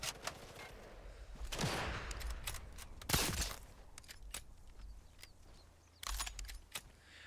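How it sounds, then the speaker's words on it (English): Bursts of machine gun fire in Sniper Elite 5, with a loud volley near 1.5 seconds, a sharper one around 3 seconds, another at 6 seconds, and quieter scattered shots in between. "Oh, the machine gun."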